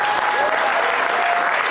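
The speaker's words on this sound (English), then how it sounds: "give a big round of applause to yourselves" Audience applause at a streamer award ceremony, a dense, steady wash of clapping filling the whole short moment without a break.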